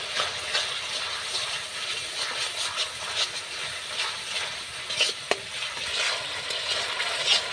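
Spice masala with ground poppy seed paste is sautéed and stirred in a pan for a Bengali puti fish posto curry, giving a continuous close sizzle with scraping stir strokes and one sharp clink, with no one speaking.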